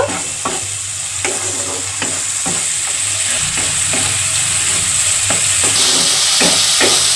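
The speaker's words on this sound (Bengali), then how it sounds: "আদা রসুনটাকেও নেড়ে চেড়ে একটুখানি পেঁয়াজের সাথে" Ginger-garlic paste frying with onions in a kadai for dhaba-style chicken: a steady sizzle broken by regular scraping strokes of a spatula stirring the pan, close and clear.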